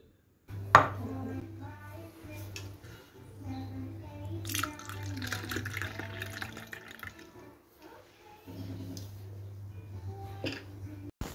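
Freshly churned buttermilk pours from a vessel into a cup with a close, soft liquid stream and splashing, opened by a sharp clink and broken by short pauses, with no voices.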